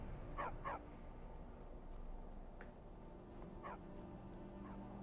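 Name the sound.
dog barking in the video game Skyrim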